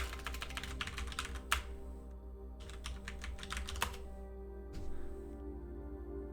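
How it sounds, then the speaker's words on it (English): Someone types on a computer keyboard in quick bursts of close, crisp key clicks, broken by short pauses, over a low steady hum. "I feel like I typed that correctly"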